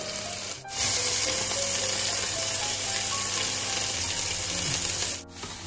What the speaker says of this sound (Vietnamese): Cá chỉ chiên qua thôi